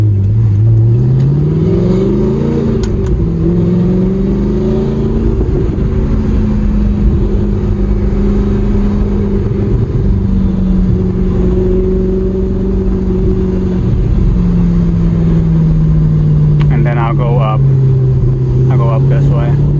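An Audi R8 with a gated manual gearbox, driven on city streets, gives a steady low engine drone that climbs and settles as it pulls, heard from inside the cabin under continuous talk.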